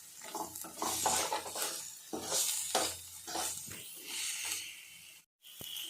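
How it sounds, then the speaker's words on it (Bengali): Chilli powder and garam masala spices sautéed in a pan, a soft sizzle under repeated scraping and stirring strokes of a spoon against the metal, close and fairly quiet, with a brief gap near the end. "এবার মশলাগুলো ভালোভাবে কষিয়ে নেব।"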